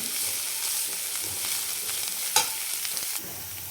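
Mustard greens with crushed peanuts are sautéed in a pan, producing a steady, bright sizzle with faint stirring scrapes and one sharper clink partway through, close up and with no voices.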